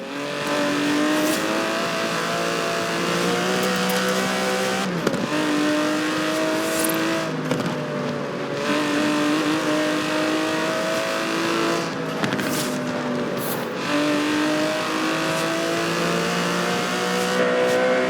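The 5.2-litre twin-turbo V12 of an Aston Martin DB11 in Forza Horizon 4 holds a loud, steady engine drone. Its pitch climbs through the gears, with brief dips at each shift and occasional tire noise.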